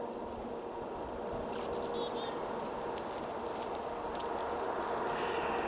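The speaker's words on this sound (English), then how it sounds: "And I can hear the birds." Faint birds chirping now and then over a steady outdoor wash of background noise, with scattered high twittering.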